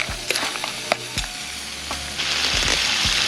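Aromatics frying in a pan outdoors while preparing fresh clam pasta sauce, with a continuous sizzle, several sharp utensil knocks and scrapes against the pan, and the frying growing louder toward the end; no talking.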